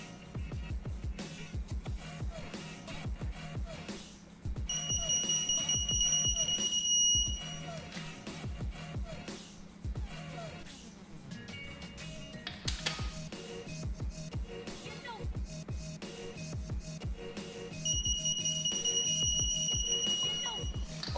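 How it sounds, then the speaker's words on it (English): A beeping torque wrench on an old, used engine block sounds two bursts of steady high electronic tones, each lasting a couple of seconds, over a clattering, rhythmic workshop background. "my torque wrench doesn't break away, it just beeps"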